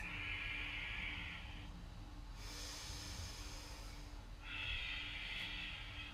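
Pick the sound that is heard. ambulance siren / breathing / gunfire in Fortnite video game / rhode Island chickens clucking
breathing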